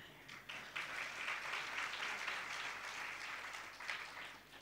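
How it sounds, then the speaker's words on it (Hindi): An audience at a Ram Katha religious discourse claps together in steady, moderately distant applause lasting several seconds, with no speech over it. "हम लोग तो प्रसन्न होके केवल ताली पीट रहे"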